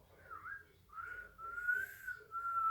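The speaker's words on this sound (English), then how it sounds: "And whistle." A person whistles a few wavering, breathy notes, rising and sliding, soft and close with no talking.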